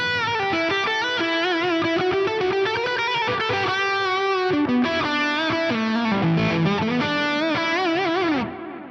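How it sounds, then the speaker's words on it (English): Distorted electric guitar lead played through a London plate reverb at stock settings, a continuous run of bent and sustained notes with a lush, washy tail that lingers as the playing stops near the end. "I really like the London plate reverb, so let's add that one at the stock setting."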